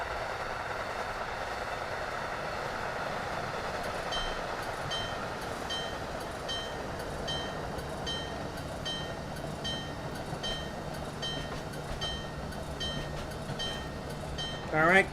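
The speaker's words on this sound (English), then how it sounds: "This train is very noisy for some reason." Train running sounds in the video game Train Sim World 2, with a steady rumbling rail roar and rhythmic clicking, faint repeating tones entering partway through, and a brief louder bump at the end.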